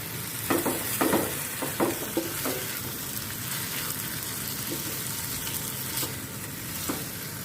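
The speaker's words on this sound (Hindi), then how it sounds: "अभी मैं 3 टमाटो की प्यूरी है ये डाल दिया मैंने इसके अंदर।" Tomato puree added to fried onions sizzles steadily in a pan, with a few louder spoon-stirring knocks early on and continuous frying hiss, no talking.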